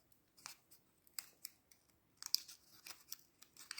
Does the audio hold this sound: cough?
no